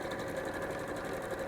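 Sewing machine stitching a 5/8-inch (1.5 cm) seam on a Christmas highland cow cushion, a steady, fast mechanical whir with a continuous even rhythm, close and moderately loud throughout, with no talking.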